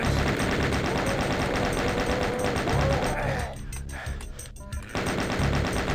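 Chaingunner enemies in Doom firing rapid, sustained machine-gun bursts, a dense, loud clatter that dips briefly midway before resuming at full intensity.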